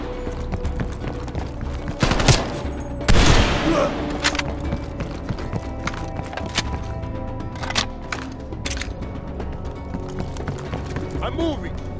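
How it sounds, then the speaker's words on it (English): Gunfire in a film action scene: a couple of sharp, heavy shots ring out amid horse hooves, mechanical clatter and shouting voices. "They're shooting at us!"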